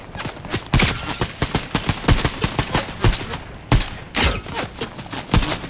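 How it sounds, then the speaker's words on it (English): Gunfire in a Fortnite battle royale match, Chapter 4 Season 2: sharp, repeated shots crack out in quick irregular bursts, some close and loud, others spaced apart, across several seconds. "Someone is shooting off."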